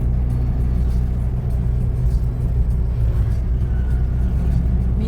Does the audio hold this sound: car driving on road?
yes